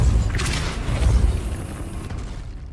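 Depulso force spell cast in Hogwarts Legacy, a single dull booming burst with a rumbling low impact and brief crackle that fades out within a few seconds, loud and close.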